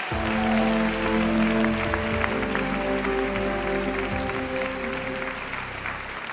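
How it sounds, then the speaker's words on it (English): A large audience at the European Film Awards ceremony in Reykjavík applauds in a sustained, full ovation, loud and continuous throughout, slowly easing slightly toward the end. "Please give one more round of applause for Raluca,"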